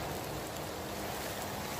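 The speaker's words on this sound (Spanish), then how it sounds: "No para de llover." Rain falls steadily through a forest along the Camino del Norte pilgrimage route, a soft, dense, continuous hiss with no distinct drops standing out and no voices.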